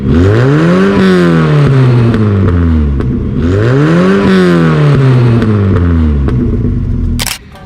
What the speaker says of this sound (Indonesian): Terus gue cuman geber-geber knalpot gue doang.